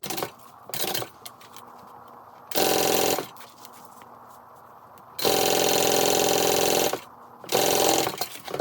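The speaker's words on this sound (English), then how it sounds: "I'm going to sew that on, baste that on using 1/8 of an inch seam allowance" Sewing machine basting zipper tape onto a handbag, several bursts of fast, loud mechanical stitching separated by quiet pauses.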